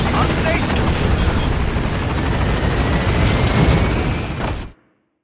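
The Pequod helicopter arriving in Metal Gear Solid V: The Phantom Pain, a loud, dense rotor roar close by, holding steady for several seconds before cutting off abruptly into silence.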